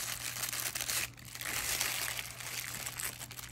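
Watch packaging for a Baby-G and G-Shock anniversary set is cut open, giving close, continuous crinkling and crumpling of plastic with a brief pause partway through.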